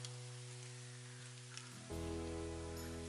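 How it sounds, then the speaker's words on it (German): Soft, scattered drips of water falling from rocks and trees in a forest after rain, faint against a steady low hum, with a louder background noise rising near the end. "Rundherum tropft es immer noch nach."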